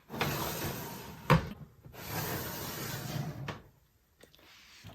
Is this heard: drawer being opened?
yes